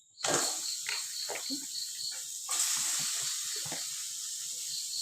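Chicken pieces dropped into a pan of fried coriander masala set off a loud, steady sizzle and hiss that flares again partway through. Light clatter from stirring sounds beneath, and nobody speaks.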